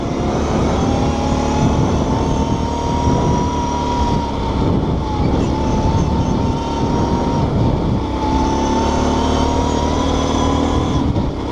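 A Kawasaki Brute Force 650 ATV engine runs at full throttle off road, droning loud and steady throughout with a sustained whine and some wavering in pitch.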